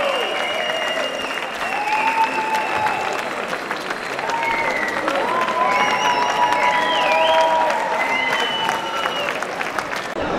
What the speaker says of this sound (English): Give a hand of applause, because that's a lot of work what those guys did.